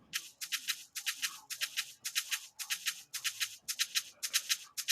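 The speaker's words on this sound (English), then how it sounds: "which is going to play now is the shaker I made" Programmed shaker loop in FL Studio Mobile, bright crisp shaker hits in a steady repeating rhythm of paired strokes, close and alone without any talking.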